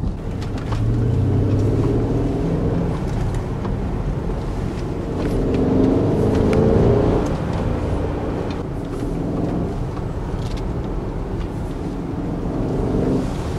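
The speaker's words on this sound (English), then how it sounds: "Just an amazing engine," A Mercedes ML 63 AMG engine drones steadily while the car is driving, a dense low rumble that swells slightly mid-way with no sharp revving peaks and no talking.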